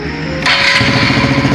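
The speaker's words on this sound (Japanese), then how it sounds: "こんな感じでエンジンをかけていただいて" A Honda Dax 125 motorcycle engine is started: quiet at first, then the engine catches partway through and runs on as a loud, close, steady mid-pitched idle.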